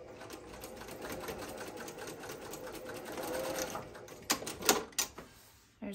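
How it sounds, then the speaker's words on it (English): A home sewing machine stitches a seam on an organizer tote with handles, a steady close whirring for several seconds, followed by a few sharp mechanical clicks as it stops. "So now I'm just gonna stitch this out"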